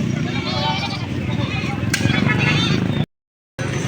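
Goats bleating amid a crowd of voices at a livestock auction in Padre Garcia, Batangas, with steady background chatter throughout and a brief drop to silence near the end.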